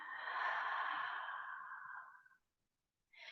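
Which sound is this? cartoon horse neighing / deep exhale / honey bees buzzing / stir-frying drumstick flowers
deep exhale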